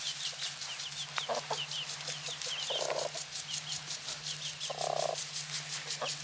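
Chickens scuffle in a fight, with bursts of sharp, agitated clucking and squawks over a steady low hum and busy background bird chatter, close and fairly loud.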